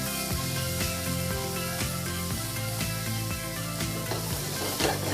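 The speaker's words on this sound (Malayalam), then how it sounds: "ബട്ടറിൽ നന്നായിട്ട് അത് മിക്സ് ചെയ്തെടുക്കുകയാണ്. ഈ വെജിറ്റബിൾ എല്ലാം വീണ്ടും മിക്സ് ചെയ്യുന്നു." Vegetables sizzle and hiss in a hot pan with butter, ketchup and soy sauce, with rhythmic scraping strokes of stirring over a steady fry, no voices.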